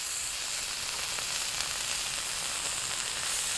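Steak sears in an Ooni Koda 16 pizza oven with a loud, even, continuous hiss and crackle that holds steady throughout.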